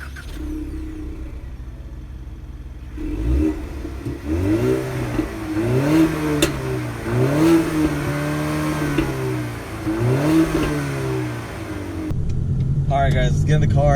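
2019 Ford Mustang EcoBoost convertible with automatic transmission starting up and driving, the engine rising and falling through repeated revving shifts, close and moderately loud, with someone talking.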